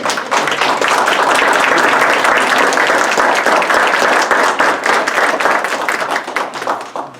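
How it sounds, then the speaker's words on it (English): Audience applause for the candidates at a village trustee forum in Park Forest, loud and sustained dense clapping from a crowd filling the whole stretch, tapering slightly at the end. "Can we give all of the candidates a round of applause?"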